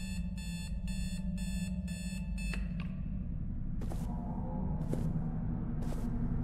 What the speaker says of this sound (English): So that beeped 6 times.